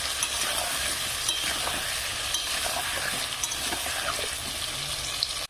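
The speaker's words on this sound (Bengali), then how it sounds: "আলুগুলো আমি একটু ভালো করে ভেজে নেব" Five large potatoes frying in a wok, giving a steady, loud, close sizzle with a crackling hiss and faint scrapes from stirring throughout.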